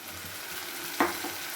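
Garlic paste frying and being stirred in a pan for a mutton-style soybean curry, a steady low sizzle with one sharp scrape or stir burst midway, close by and alone without talk.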